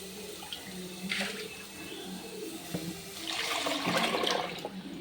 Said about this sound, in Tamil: இப்போ நம்ம குழம்பு ஊற்றிக்கலாம்